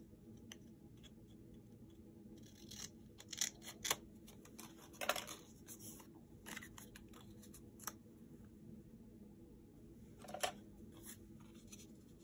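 Paper being cut with scissors for a mixed-media journal page, heard as quiet, scattered snips and ticks that come in short bursts over low room noise, with no talking.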